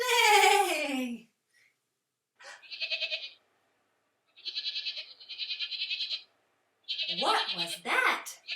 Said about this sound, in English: That one's a goat.